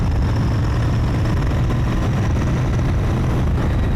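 A Royal Enfield Bear motorcycle engine drones steadily while riding, a dense low rumble mixed with wind noise, loud and continuous with no talk.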